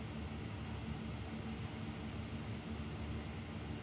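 Jet airliner engines roar steadily on the runway during a takeoff roll from Palma, a broad, constant wash of engine noise that stays loud throughout with no talk over it.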